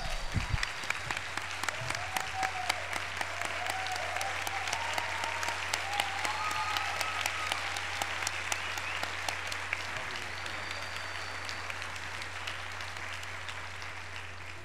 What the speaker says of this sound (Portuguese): E acho que ela merece mesmo uma salva de palmas em pé aqui de todos nós.